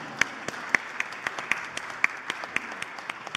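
A small congregation gives light, sparse applause, scattered individual claps ringing out at an uneven pace, fairly faint in a roomy space.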